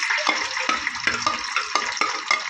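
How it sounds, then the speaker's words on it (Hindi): Sliced onions frying in hot oil while pulao is being made, with steady sizzling and irregular scraping strokes of a spoon stirring the pan, close and fairly loud, no voices. "तेल गर्म हो चुका है और अब हम इसमें ऐड कर देंगे स्लाइस की हुई प्याज।"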